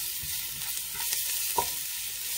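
Garlic sautéing in a tablespoon or two of oil for shepherd's pie, a steady close sizzle with a couple of soft stir clicks, no voices.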